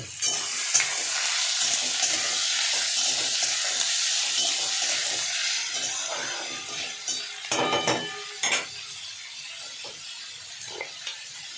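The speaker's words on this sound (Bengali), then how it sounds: "এই যে আলু পেঁয়াজটা সরষে করে কেটে রেখেছিলাম, এই যে দিয়ে দিলাম তেলের মধ্যে" Potato and onion pieces frying in hot oil tempered with nigella and cumin, a steady bright sizzle with scattered stirring knocks and crackles toward the end.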